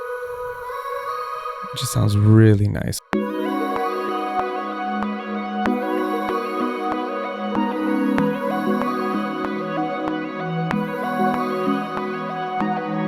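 After a short spoken remark, a beat plays with a high vocal sample sped up to 2x, looping over regular percussive hits.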